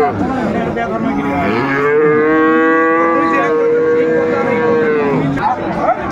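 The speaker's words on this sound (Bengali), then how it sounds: "আমরা দেখছিলাম এখানে বেশ সুন্দর একটি গরু" A cow lets out a long, loud, close moo with a rising then steady tone, alone against faint background noise, at the Aftabganj cattle market.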